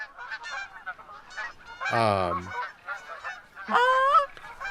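Geese honk in theHunter: Call of the Wild game in the Hirschfelden reserve, a string of nasal calls with two louder honks standing out and faint voice-like chatter in between.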